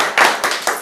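An audience at a public gathering claps, giving three short, loud bursts of applause in quick succession, close and without talk.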